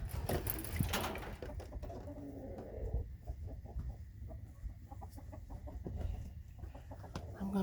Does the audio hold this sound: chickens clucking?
yes